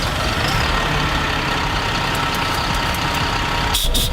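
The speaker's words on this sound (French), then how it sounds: "La motorisation du Griffon est un moteur Renault Truck de 400 chevaux en 6 cylindres en ligne" Renault Truck 400 hp inline six-cylinder diesel running with a dense, steady rumble and broad roar, continuous throughout, with a short dip near the end.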